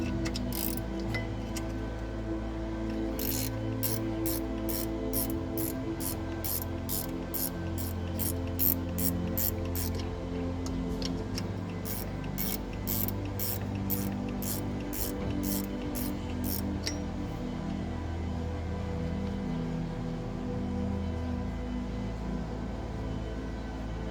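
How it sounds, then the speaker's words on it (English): A 13mm ratchet wrench works a bolt loose while removing parts near an alternator, its pawl clicking in rapid bursts of evenly spaced ticks over a steady low hum, with no talking. "Now, with a 13mm ratchet wrench, I can proceed with the first bolt."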